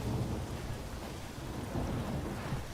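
Steady rain pours down with low rumbling thunder rolling underneath in The Witcher 3, a dense continuous storm wash with no voices.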